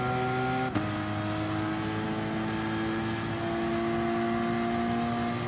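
A race car's engine in GT Sport drones steadily at high revs on the last stretch of a track, loud and continuous, with a brief shift dip early on and no talk.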